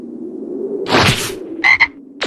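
Frog croaking in the video game Dragon Ball Xenoverse, a low steady drone under a burst of noise, followed by two short bright croaks close together and a brief final sound.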